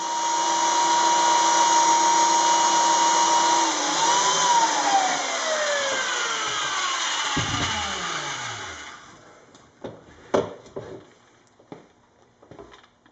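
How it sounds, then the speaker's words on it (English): A power drill bores steadily with a loud, sustained whine, then winds down in pitch, followed by a few sharp knocks and clatter: a 1-inch Forstner bit drilling an output jack hole in a wooden guitar body. "Drill the output jack hole now. This is a 1-inch Forstner bit"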